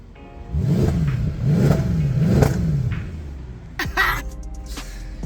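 A stock Mercedes E63 AMG with the 6.2-litre M156 V8 revs loudly and aggressively through its factory exhaust in three rising blips, then settles to idle before some clattering noises and a brief rev at the end.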